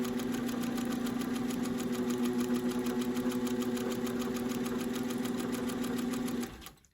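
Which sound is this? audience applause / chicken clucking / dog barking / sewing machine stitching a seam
sewing machine stitching a seam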